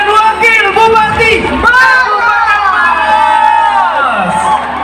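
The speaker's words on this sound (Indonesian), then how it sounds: "Tepuk tangan dulu dong." A crowd at a regent and vice regent's third-year public event in Maros cheers and shouts loudly and steadily, with voices rising together throughout and mixed whoops over a dense roar.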